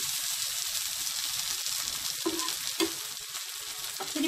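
Onion dosa frying on a hot pan just after being flipped, a steady close sizzle and crackle running throughout with a few slightly louder pops near the end.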